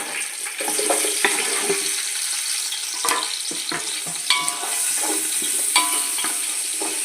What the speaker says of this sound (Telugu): ఉల్లిపాయలు పచ్చిమిరపకాయలు వేసుకున్నాము